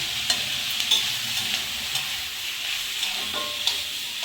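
Brinjal chutney with grated coconut frying in a pan, steady sizzling under repeated scraping and stirring strokes of a spoon, close up with no talking.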